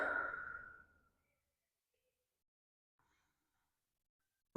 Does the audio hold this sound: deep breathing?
yes